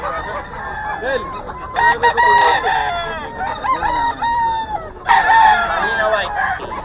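Rooster crowing repeatedly at a fowl market in Bocaue, loud and close with several long crows and clucking from other birds around, with people talking in the background.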